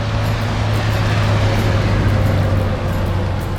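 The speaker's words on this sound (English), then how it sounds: "I'm competing with some traffic noise here on the highway." Steady, loud highway traffic roars without a break beside a sunflower farm in Olathe, Colorado: a dense broadband wash of passing vehicles with a continuous low rumble and hum underneath.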